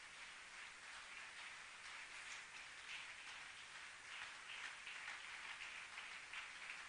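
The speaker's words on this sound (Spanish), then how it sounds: "¿Cuántos quieren darle un aplauso a Él en esta mañana?" A church congregation at a Spanish-language Sunday morning service claps together in a steady, dense, faint wash of applause that continues evenly for several seconds.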